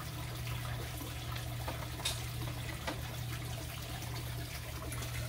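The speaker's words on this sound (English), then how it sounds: "You see the water still flowing." Water flows steadily through a fish tank filter after cleaning, a continuous close trickle and wash of liquid over a low, constant pump hum, with no talk.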